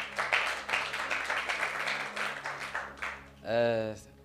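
A church congregation at Zion Temple Manchester breaks into dense, steady applause lasting several seconds, ending with a brief sung or tonal sound.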